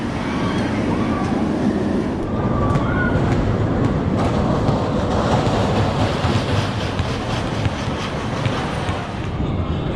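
Mindbender roller coaster train at Six Flags Over Georgia rumbling along its track with rattling clatter and wind noise, continuous and loud, with faint voices underneath.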